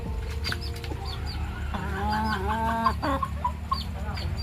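A rooster clucks and makes short throaty calls in a rural outdoor setting, with a few sharper squawks and chirps. Steady low background noise runs underneath, and no one speaks.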